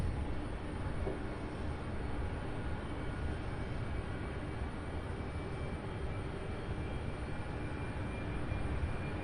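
A Boeing 767 airliner on approach to SDF airport in Louisville gives a steady, broad jet rumble that holds at an even level throughout, moderately distant, with no voices.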